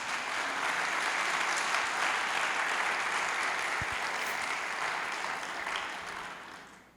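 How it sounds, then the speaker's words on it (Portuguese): A church congregation applauds the Lord during a sermon, a loud, dense and steady wash of clapping that holds for several seconds before fading at the end. "Você pode aplaudir o Senhor?"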